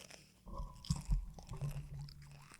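People chew chips right into a podcast microphone, close and loud crunching with irregular bites and a couple of sharp crunches mid-clip, no talking during the chewing.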